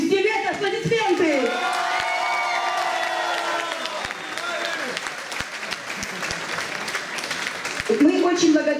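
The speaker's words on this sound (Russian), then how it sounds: "Аплодисменты!" Sustained audience applause fills a hall during the official part of the 2016 KHUBBA festival in Urmia, steady and dense throughout, with voices and cheers rising at the start and again near the end.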